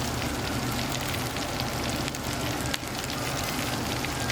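Beer brats sizzle on a PK360 charcoal grill, a dense steady crackling hiss that stays loud and close throughout with no talking.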